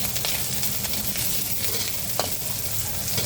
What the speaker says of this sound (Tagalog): Yan, mainit na mantika. Pag mainit, lalagay natin yung repolyo.